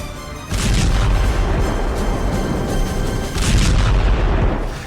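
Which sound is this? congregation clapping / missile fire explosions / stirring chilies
missile fire explosions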